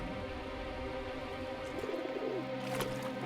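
A pigeon coos near a river: a soft, low, rolling call rising over a steady background hum and running-water hiss, with a brief brighter chirp near the end.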